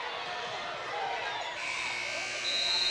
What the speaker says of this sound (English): As the buzzer sounds, a last shot will not go.